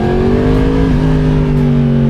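A motorcycle with a homologated aftermarket exhaust revs loudly on a ride through Naples, its strong, steady engine note sliding slightly in pitch as the throttle changes, close and without talking.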